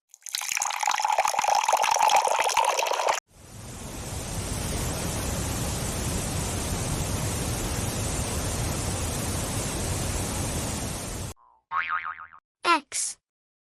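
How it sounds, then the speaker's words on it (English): Water poured or splashing as a steady broadband hiss for several seconds, loud and alone, preceded by a bright cartoonish tone and followed by short chime-like blips. "W for water."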